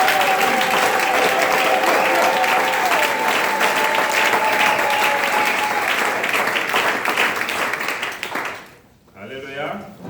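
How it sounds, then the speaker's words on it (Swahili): A church congregation applauds steadily, a dense wash of clapping with a sung or sustained voice drifting over it before the applause fades near the end and speech takes over. "on peut applaudir le Seigneur."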